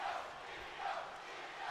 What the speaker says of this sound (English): look at all the crowd is chanting for Io Shirai